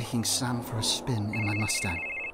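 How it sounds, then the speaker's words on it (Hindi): A sustained electronic phone ring in a horror video game, with a high, steady tone, mixed with game sound effects and someone talking over it. "कहाँ बज रहा है फ़ोन"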